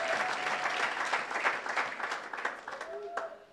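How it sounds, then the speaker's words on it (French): A church congregation at Zion Temple in Brussels claps for the Lord, a dense sustained round of applause from a crowd that stays loud throughout and tapers toward the end, with voices heard faintly in the mix. "Let us clap for the Lord."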